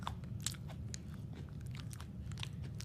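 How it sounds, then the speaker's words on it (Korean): Crunchy black sesame cookies being bitten and chewed close up, with repeated crisp crunches and wet chewing over a steady low hum, no talking. "더 쩝쩝 소리 내야 되나?"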